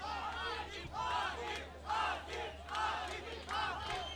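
A fight crowd at a professional MMA bout between a Pakistani and an Iranian fighter swells in repeated loud waves of cheering and shouting, roughly once a second, with a steady low hum underneath.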